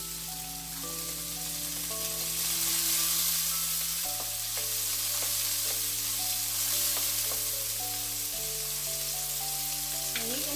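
Onion and tomato sautéing in a wok make a dense, steady sizzle and hiss, with occasional scrapes and taps from stirring and a faint tonal hum beneath, and no talking.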